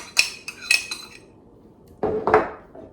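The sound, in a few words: stirring chicken and apricot salad ingredients in a bowl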